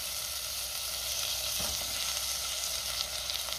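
Pigeon peas and potato sautéing in a pan for masala rice give a steady, close sizzle that lasts the whole time, with a brief stirring scrape near the middle.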